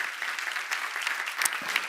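An audience at a church seminar applauds, steady dense clapping from many hands that holds evenly throughout, close and fairly loud.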